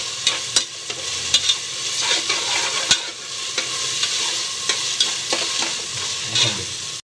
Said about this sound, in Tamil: இஞ்சி பூண்டு நல்லா வளர்ந்த பிறகு பச்சை வாசனை போன வரை நம்ம வதக்கணும்.